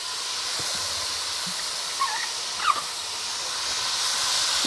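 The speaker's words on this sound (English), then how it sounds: "And then I'll just put the vegetable mixture in." Vegetable mixture for a vegan lentil bolognese sizzles in hot olive oil in a frying pan: a steady, close, hissing fry with a couple of small pops partway through and no voices.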